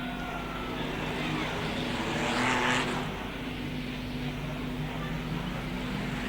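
Super rod racing cars lap the Wimbledon track in 1977, a continuous engine roar that swells to a louder pass and then settles, with a commentator talking over it.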